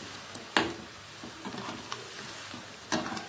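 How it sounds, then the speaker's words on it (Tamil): Maida biscuits deep-fry in hot oil over a medium flame, giving a soft continuous sizzle with a few sharp crackles and pops scattered through it, close and fairly quiet. "இப்போ இதை எல்லாத்தையும் கொஞ்சம் கொஞ்சமாக போட்டு பொறிச்செடுக்கலாம்."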